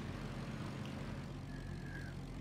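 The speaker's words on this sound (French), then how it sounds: "les avions sont hyper lents" Slow carrier aircraft in World of Warships droning steadily overhead, a continuous propeller engine hum with broadband wind-like noise throughout, no voices.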